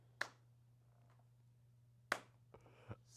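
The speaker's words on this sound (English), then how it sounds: "slow clap" A slow clap: two sharp, isolated hand claps about two seconds apart, fairly faint, followed by a couple of softer taps over a low steady hum.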